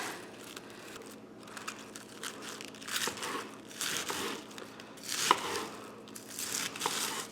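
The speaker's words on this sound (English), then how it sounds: "I've also found that using a serrated knife really helps in the shredding process. So I'm going to slice this into thin shreds." Serrated knife shredding cabbage into thin strips for an Asian noodle salad, a close, steady series of crisp crunching and crinkling cuts in uneven bursts with no talking.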